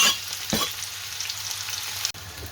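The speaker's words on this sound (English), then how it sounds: "Just saute the onions until they're really soft" Onions sautéing in a hot pan for a lamb madras give a steady close sizzle and crackle, with a few stirring scrapes and a brief clatter near the end, no voices.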